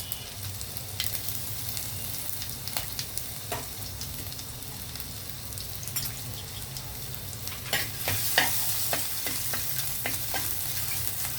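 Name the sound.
ginger frying and sizzling in a pan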